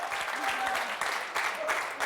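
Studio audience applauding on a French TV game show, a dense sustained clapping wash filling the whole moment with a couple of swells, excited voices cheering faintly within it.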